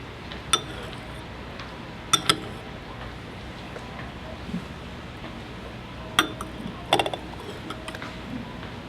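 A spoon stirs Chinese tea in glass teaware, giving a few bright clinks against the glass in separate pairs and clusters, close and clear over a quiet background.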